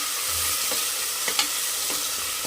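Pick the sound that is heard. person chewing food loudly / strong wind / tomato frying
tomato frying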